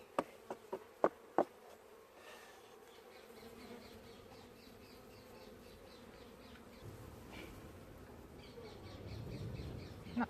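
Honey bees hum and buzz steadily close by around a hive, with a few sharp knocks at the start and a faint squawk.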